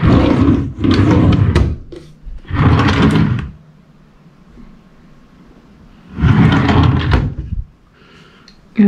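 Three small drawers in an apartment bathroom unit slide open and shut in loud, close rumbling scrapes. There are several strokes in quick succession, then a pause, then more sliding strokes, with a quiet room between them.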